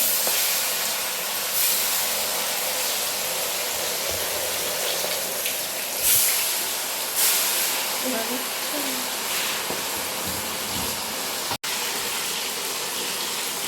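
Chicken pieces fry in hot oil with a loud, continuous hissing roar and spattering, close by, with a voice faintly under the noise.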